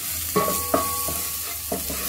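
Chopped garlic sizzles in a little olive oil in a pan while a utensil stirs it, a soft continuous fry broken by a few distinct scraping knocks.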